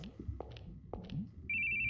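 A phone rings in the video game Happy End, starting as a steady, loud electronic trill after a stretch of footsteps and scattered sounds, then sustaining to the end.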